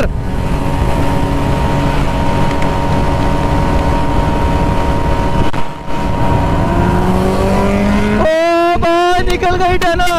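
A Kawasaki ZX-10R motorcycle and a scooter drag race at speed, with a loud, steady engine drone whose pitch climbs gradually before a sharp, rising high-revving whine near the end, and a voice faintly under it.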